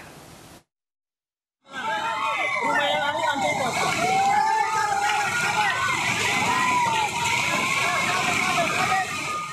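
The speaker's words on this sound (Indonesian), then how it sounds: "8 rumah hanyut terbawa derasnya luapan air sungai." Swollen river floodwater from a flash flood in Central Sulawesi rushes and churns loudly and continuously after a brief silence, sweeping houses away, while a news narrator speaks over the roar.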